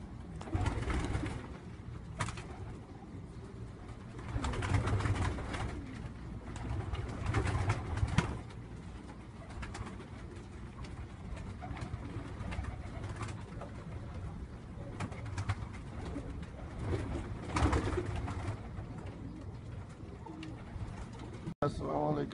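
Two pigeons coo in soft, repeated phrases close by, set against a steady low background hum with occasional louder bursts.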